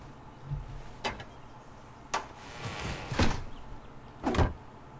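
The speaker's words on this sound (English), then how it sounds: "you saw what happened before when you closed the door, right?" Door closing in the video game King's Quest; several soft, separate thuds and knocks spaced about a second apart over quiet ambience, with no talking.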